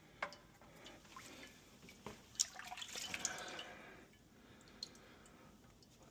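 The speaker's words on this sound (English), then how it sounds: "This dripping is because of that reverse osmosis system." Faint, irregular drips of water from a reverse osmosis system falling in the quiet, enclosed space under a kitchen sink, with a soft trickle swelling briefly midway.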